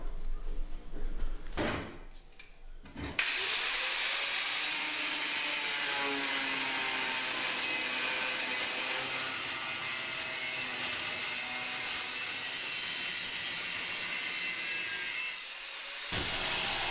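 Steel plates being cut for a custom mic stand tripod in a metal shop, with a steady, loud grinding-saw whine running continuously for about twelve seconds after a few short starts, then stopping.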